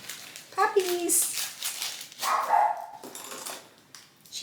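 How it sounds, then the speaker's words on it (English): A pet dog gives a few sharp indoor barks at close range, mixed in with people talking. "She barks at everything."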